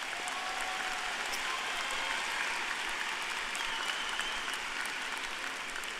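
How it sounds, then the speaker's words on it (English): A commencement audience applauds steadily for a graduate speaker's family, a dense, even wash of clapping from a large crowd that holds at a constant level from start to finish with no talk over it. "Everyone, please join me and give me a round of applause to my family."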